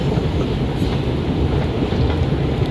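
A train rumbles steadily through a Toronto station, with a dense, loud rolling roar and faint rhythmic wheel clatter running throughout and no voices.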